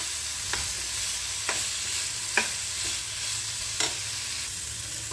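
Ginger garlic paste and fennel powder sauté in a pan with a steady soft sizzle, broken by about four sharp scrapes of a stirring spoon at regular intervals; no talking.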